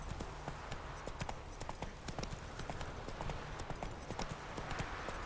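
Horse hooves clip-clop at a steady trot in a video game, moderately close, with a continuous rhythmic beat over a constant game ambience.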